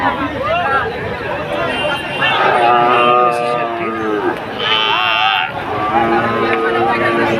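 Cattle at a busy rural cattle market moo repeatedly, several long drawn-out lows rising above a crowded hubbub of bargaining voices and background chatter.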